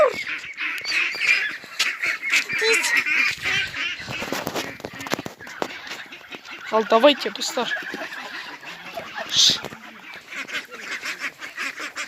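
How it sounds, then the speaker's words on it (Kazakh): A flock of ducks and geese honks and quacks in ragged bursts near a farmyard pen as they are herded in, with people talking over the noisy birds. "Үйректерді кіргізейін деп жатырмыз."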